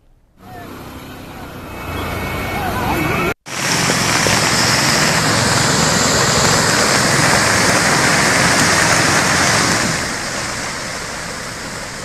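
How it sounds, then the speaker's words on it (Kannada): A dense, steady roar of heavy rain pours continuously, broken by one abrupt cut, then carries on loud before easing slightly near the end. "ಹಲವೆಡೆ ಕೂಡ ಧಾರಾಕಾರ ಮಳೆ ಸುರಿದಿರೋ"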